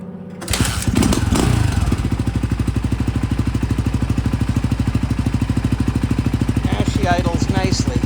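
Honda XR250L motorcycle engine starts up and settles into a steady, even idle with a rapid regular thumping pulse, close and loud, with a brief faint voice near the end.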